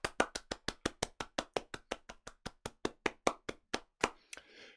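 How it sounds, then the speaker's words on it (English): A single pair of hands clapping in a fast, even rhythm, about twenty crisp close claps that stop abruptly, in place of a full audience applause at an online developer conference. "here is your round the world round of applause"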